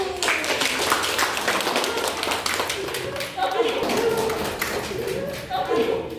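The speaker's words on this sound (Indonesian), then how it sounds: "beri tepuk tangan dulu" Schoolchildren clapping in a fourth-grade classroom during a lesson, a short uneven patter of hands with voices and chatter mixed in.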